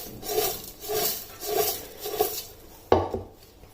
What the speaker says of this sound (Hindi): अब ये जो मसाला तैयार किया है अचार के लिए, ये इसके ऊपर डाल देना है इस तरह, और इसे इस तरह मिक्स कर लेना है।